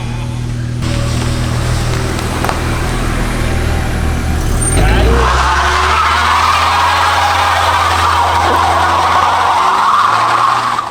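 A barn-find Nissan 240SX brakes hard and skids, with a loud engine drone breaking into a broad tire scrub and squeal partway through. The vehicle is close and voices talk over it.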